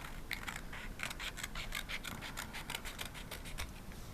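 Scissors snip through a paper puzzle piece, a steady run of short crisp cuts and rustles close to the ear with no talking.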